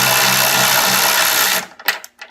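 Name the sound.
Kimo 12 volt cordless ratchet removing a tight bolt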